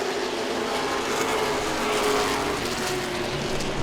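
Late model race cars running side by side at Langley Speedway, a steady engine drone heard from a distance with a faint rising whine, no talk.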